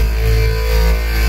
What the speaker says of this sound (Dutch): een basje gevonden en die klinkt zo.